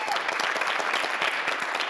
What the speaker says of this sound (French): On les accueille chaleureusement sous vos applaudissements.